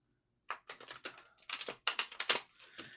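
Quick, crisp papery riffling in short bursts as tarot cards are shuffled close by, with brief pauses between rapid flurries.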